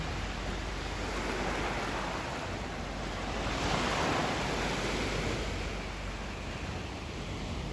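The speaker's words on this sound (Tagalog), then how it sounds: "High tide. Po. Kaya, dito ang alon sa ano, baybayin." Surf at high tide on a beach after a typhoon, with waves breaking against the shore in a steady, loud broadband roar that swells briefly midway, backed by some wind noise.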